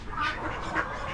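Silver mallard ducks quacking at an Amish animal auction, two or three soft nasal quacks at moderate distance over a steady background murmur.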